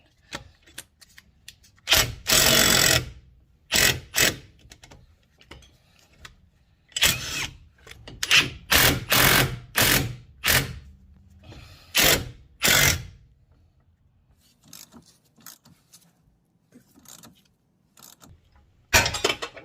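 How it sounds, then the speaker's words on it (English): A pneumatic impact gun with a socket works the lower ball joint bolt on a 2005-or-later Kia Sportage or Hyundai Tucson, letting out loud, close bursts of rattling hammering in several separate runs with short pauses between them. "and then we'll use impact gun"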